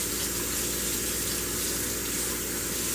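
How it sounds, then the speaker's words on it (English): Hot tap water running steadily while a painted frame part is washed with soap and a brush, a constant close hiss and splash with no pauses or talk. "Use hot water, as hot as you can stand it."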